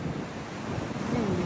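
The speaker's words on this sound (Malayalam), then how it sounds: "ഭയങ്കരമായിട്ട് കടൽ ഇങ്ങനെ കലിപ്പിലാണെന്ന് പറയില്ലേ, അമ്മാതിരിയാണ്" Rough sea surf churns at Munambam beach where the river meets the sea, a brief, constant rushing wash of waves mixed with blustery wind buffeting the microphone.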